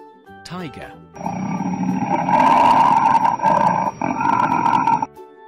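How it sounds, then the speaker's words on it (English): A sustained cartoon tiger roar rumbles loudly for about four seconds over background music, after a short rising whoop at the start. "Tiger."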